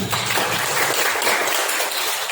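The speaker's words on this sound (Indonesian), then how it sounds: "Tepuk tangan." A group of teachers at a classroom workshop claps together in steady, dense applause, loud and close, filling the whole moment with no pauses.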